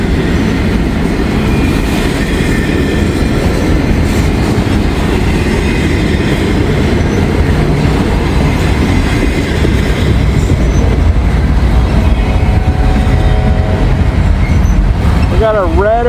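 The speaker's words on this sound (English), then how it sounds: "even though it's an intermodal train." An intermodal freight train rolls past close by, a loud continuous rumble of railcars with clickety-clack wheel rhythm and a brief wheel squeal near the end.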